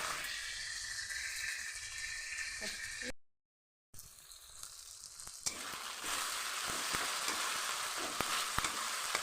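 Ginger and garlic sautéing in a hot pan for a jackfruit and potato curry, a steady close sizzle and crackle throughout, broken by a brief silent gap, then stirring scrapes and louder frying with scattered clicks.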